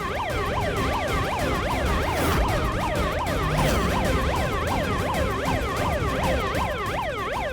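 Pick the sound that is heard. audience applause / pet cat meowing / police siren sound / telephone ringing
police siren sound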